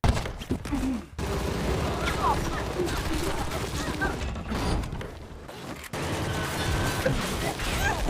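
Dense, continuous gunfire in an action film, with sharp cracks and crashes rattling over a busy background, loud and relentless throughout.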